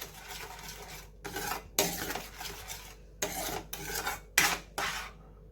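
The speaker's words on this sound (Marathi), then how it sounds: "तर आता ही साखर आपण आधी विरघळून घेऊया व्यवस्थित." A spoon stirs mango halva mixture with sugar in a metal pan, making rasping, scraping strokes in separate bursts with brief pauses between, close and fairly quiet, with no talking.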